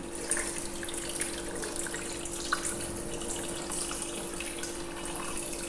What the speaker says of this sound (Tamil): இப்போ இதுக்கு தேவையான தண்ணி ஊற்றிடும்.